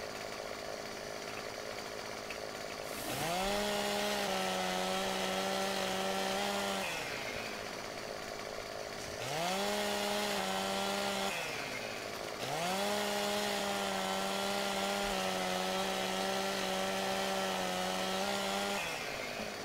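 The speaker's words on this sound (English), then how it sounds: "it's very, very simple to use a chainsaw" A chainsaw cuts up a tree in Farming Simulator 15, the engine droning loud and steady in three long bursts with brief lower idling gaps between them.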